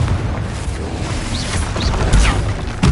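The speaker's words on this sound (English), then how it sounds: "Confringo!" A Confringo blasting spell explodes in Hogwarts Legacy with a loud, close boom and crashing burst. Whooshing magical effects and a second heavy impact follow near the end.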